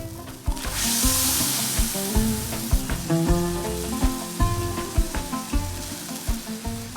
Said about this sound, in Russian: В оставшийся жир и бульон закладываем часть моркови и весь лук.